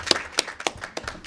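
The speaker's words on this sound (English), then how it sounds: "So let's hear a round of applause." Applause from an audience at a high school student recognition event for an award recipient, with sharp overlapping claps in an uneven rhythm.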